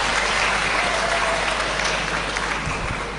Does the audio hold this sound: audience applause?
yes